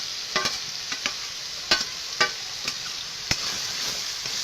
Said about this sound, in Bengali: আমি এটা ভালো করে একটু কষিয়ে নেব